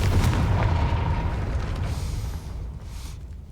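A video game's Confringo spell sets off a loud explosive boom at the start, and a deep rumble then slowly fades over a few seconds.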